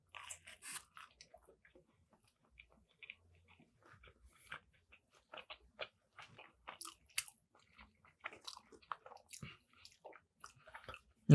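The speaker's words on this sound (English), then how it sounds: "but now I'm actually eating it" Someone bites and chews pizza with a soft-crusted, non-crunchy dough, close to the mic, in quiet, irregular wet crunches and smacks, alone without talk.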